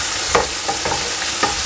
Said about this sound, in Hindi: अभी चिकन को मैं खूब अच्छी तरह भून लूँगा जब तक अच्छी ब्राउन हो जाएगी।